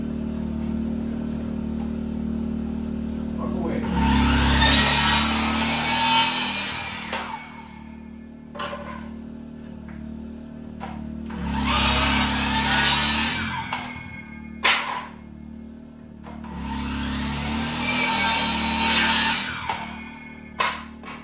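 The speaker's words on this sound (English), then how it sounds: "chop saw, miter saw, whatever you want to call it, and cut up these boards." A miter saw, also called a chop saw, slices through wooden boards cut into 8-inch strips against a stop block. Three loud cuts come through, each a roughly three-second whine over a steady background hum, with short knocks and rattles between them.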